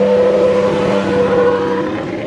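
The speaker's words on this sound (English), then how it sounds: "We got some epic Formula One cars coming up the hill as well." Formula One race cars climbing a hill, a loud, close engine roar with a strong sustained tone that shifts slightly as the cars pull up the slope, with no talk over it.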